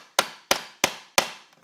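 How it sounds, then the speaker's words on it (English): A chisel strikes hardwood while cutting out a door latch recess: four sharp, evenly spaced knocks, close and crisp, each quickly decaying, with no talk. "We'll use a smaller chisel right here. This is a hardwood."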